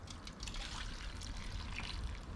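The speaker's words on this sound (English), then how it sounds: "as I'm adding more water, the manure is rising to the surface" Water pouring and trickling steadily into a container of manure fertiliser, a continuous close splashing dribble with no voices.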